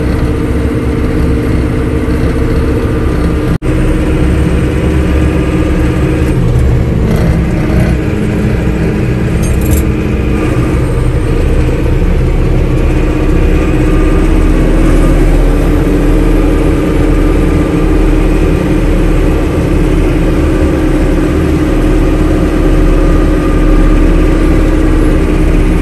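A loader's engine runs steadily and loud up close, a continuous low rumbling drone holding throughout with a faint rhythmic bounce and no break.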